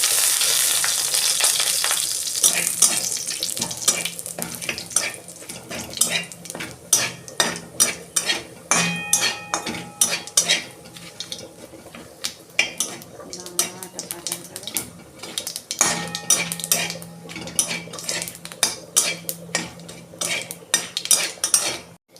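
Bay leaf, dried red chili, whole cumin and grated ginger frying in hot oil for a vegetarian dal, steady sizzle under frequent close clinks and scrapes of a metal spoon against the pot, with no talking.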